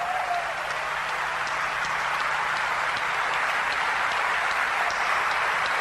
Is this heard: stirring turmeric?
no